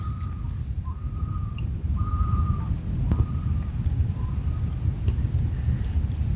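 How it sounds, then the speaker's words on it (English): Faint, wavering loon calls drift in from a distance over a steady rumble of wind, a few drawn-out cries spaced across the recording. "I don't know if you heard that, but a loon far off in the background."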